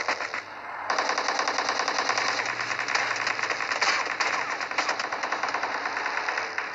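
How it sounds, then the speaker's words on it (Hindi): Sustained rapid automatic gunfire from a mobile battle royale shooter game, a loud, dense stream of shots running almost unbroken for several seconds after a brief quieter opening. "अब जैसे टीममेट नॉक हुआ तो मैंने कवर फायर दिया इसको"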